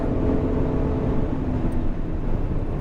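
An Aston Martin Vantage drives on the Miami Grand Prix circuit with a steady, loud engine drone and road roar from inside the car, holding an even note throughout.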